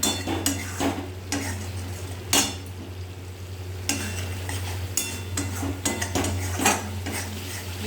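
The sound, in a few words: stirring mustard paste masala frying in oil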